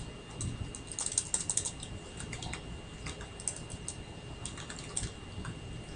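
Quiet, steady typing of C++ code on a computer keyboard, with soft key clicks in uneven bursts and occasional louder taps over a faint background hiss.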